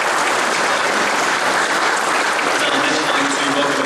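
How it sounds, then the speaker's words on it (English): A dense, steady round of applause from the audience at a 2025 Australia Day awards ceremony in Pittsworth, Queensland, holding loud and unbroken for the whole stretch with faint voices underneath. "So please give them a big round of applause and thank you for your efforts."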